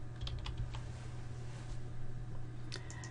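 Typing on a computer keyboard while entering text into a table cell, soft close key clicks in short uneven bursts over a low steady background hum.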